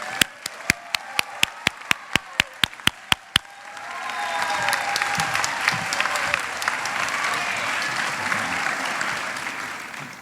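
An audience at a chapel student awards ceremony applauds honors students: a single person's steady, evenly spaced claps come first, then a full room breaks into sustained, dense applause that holds at a loud level.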